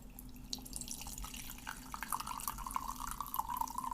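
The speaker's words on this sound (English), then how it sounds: "I think I'm going to pour some tea. I've had some green tea brewing" Brewed green tea pours in a steady, faint trickle of liquid, a thin continuous splash rising slightly toward the end with soft background hiss and no talking.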